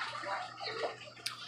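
Water drains from a Kuppet portable washing machine, a soft, uneven gurgle and slosh that rises and falls, with a brief sharper splash near the end and no speech.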